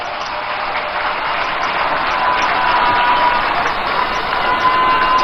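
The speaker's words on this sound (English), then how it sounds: "Ladies and gentlemen, let's give all of them a round of applause." A crowd at the NDC 2024 manifesto launch claps and cheers, a broad, steady wash of applause that swells slightly toward the end, heard through a band-limited, somewhat muffled recording.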